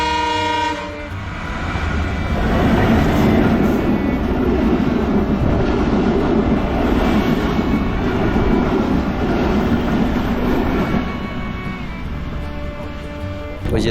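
A train rolls through the Talabah railway level crossing in Gazipur, Bangladesh, a loud sustained rumble of wheels and wagons close by with horn tones at the start and end, and no talk over it.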